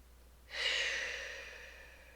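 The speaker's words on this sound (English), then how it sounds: "Inhale through your nose. Exhale through your mouth." A single deep breath exhaled through the mouth during a yoga class, a long airy breathy rush that swells quickly and then slowly tapers off, heard close and alone with no talking.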